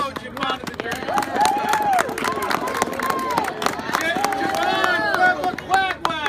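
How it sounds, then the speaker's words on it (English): Applause and scattered clapping fill the room at a 5K Thanksgiving road race awards ceremony, steady and dense throughout, with crowd murmur and voices mixed in. "Let's have a round of applause for their coach, Yvonne of the Derby."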